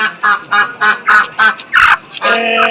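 Domestic Baladi ducks at a market quack loudly and close by in a quick series of about eight harsh calls, evenly spaced and ending in a longer drawn-out call.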